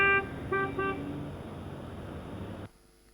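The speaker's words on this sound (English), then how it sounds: "And the second one is a horn sound." Three short, bright simulated car horn honks in quick succession, followed by a lingering low rumble of noise that stops abruptly.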